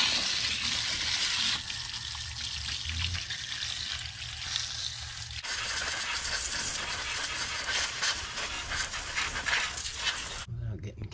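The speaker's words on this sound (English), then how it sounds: "the first thing we're gonna do is hose it down and try to get all the mud and manure out from in between" A hose sprays a calf's hoof to wash mud and manure from between the toes of a foot with hoof rot, making a continuous hiss of water as a person talks over it.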